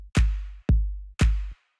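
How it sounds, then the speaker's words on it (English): An organic-sounding hand clap sample from an electronic music beat strikes three times, each hit dry and punchy with a brief low body, spaced about half a second apart, with no voices. "really organic clap sound"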